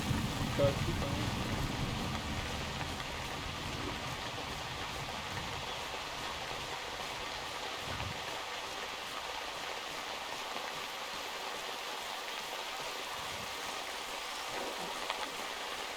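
Steady rain falls throughout, a constant broadband hiss with no breaks, moderately loud and evenly spread, with faint low rumbles beneath.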